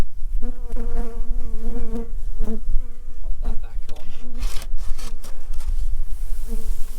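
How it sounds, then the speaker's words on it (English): Dense, steady buzzing of many honeybees close by, with a brief spoken phrase and some handling noises over the drone. "Look how calm these bees are as well."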